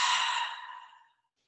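A single long exhalation during a seated yoga pose with the soles of the feet together, a breathy sigh that starts loud and close, then fades away over about a second into silence.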